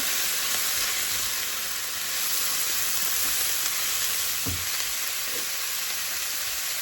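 Chilli flakes are stirred into a sizzling pan, with a constant frying hiss and a single brief scrape partway through; nobody speaks.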